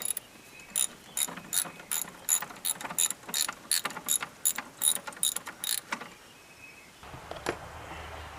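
A ratchet wrench loosening the battery hold-down plate bolt on a 1992 Ford 3930 4x4 shuttle-shift tractor, heard as a close, rhythmic series of rapid clicking bursts over about six seconds, then a shuffle and a brief clank.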